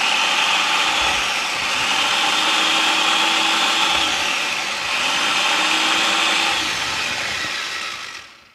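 A kitchen blender whirs continuously while blending a small portion of milk for a three-flavor pudding, a loud steady motor roar with slight pitch shifts before winding down at the end.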